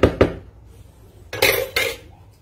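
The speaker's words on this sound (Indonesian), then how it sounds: "Aduk lagi." Martabak batter stirred in a bowl with a utensil, sharp clinks and scraping knocks against the bowl in short bursts, close and alone without speech.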